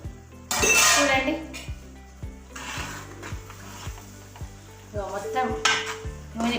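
Onion curry for egg bhurji cooking in oil in a pan, with loud sizzling bursts, regular spoon scrapes and clinks against the pan, and a brief voice in the background.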